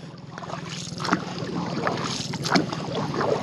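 A small boat moving on open water, with steady wind rumble and lapping water, a few louder splashes near the middle and end.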